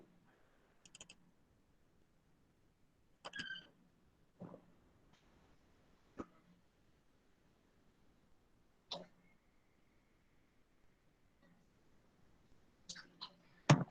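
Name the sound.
mouse clicking on computer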